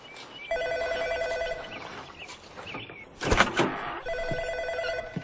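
An electronic telephone ringing indoors in repeated warbling bursts, close and fairly quiet, with a clattering, rustling handling noise in between.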